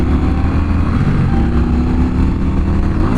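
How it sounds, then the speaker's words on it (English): A 2016 Indian Scout motorcycle in Wildfire Red revs hard at full throttle near redline, a loud, steady engine roar that holds without pause throughout. "Full throttle. I think I just redlined."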